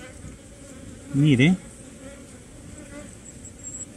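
Honey bees hum steadily around an open hive frame during queen rearing, a low continuous buzz near the listener, briefly overlaid by a single spoken word from a beekeeper.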